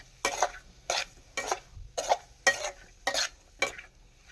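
Chilli, semolina and mustard frying in a spoonful of oil, heard as about seven evenly spaced stirring scrapes and brief sizzles in a steady rhythm, close and moderately loud with quiet gaps between.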